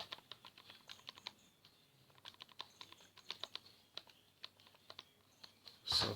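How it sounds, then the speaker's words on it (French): Rapid, irregular clicking of buttons being pressed while numbers are entered on a calculator, close and quiet with no talk, ending in a louder brief burst. "On tape ça dans nos calculatrices."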